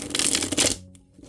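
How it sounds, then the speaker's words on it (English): A deck of thin, bendy tarot cards is shuffled close up, a dense rapid riffling flutter that ends abruptly into quiet. "I will try to get around the camera to shuffle."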